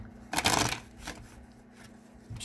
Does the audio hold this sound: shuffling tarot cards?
yes